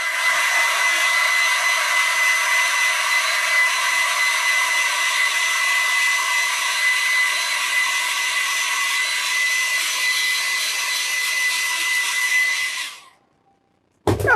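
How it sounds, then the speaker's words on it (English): A hair dryer blows over a watercolour painting in one loud, steady whoosh lasting about thirteen seconds before it switches off, followed by a brief knock. "I'll just give it another quick burst with the dryer."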